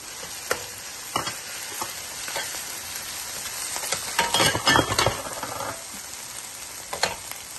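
Tomato and chopped coriander frying in a pan for a Kerala-style fish molee, with a continuous sizzle and scattered spoon scrapes that get louder and busier for a moment midway.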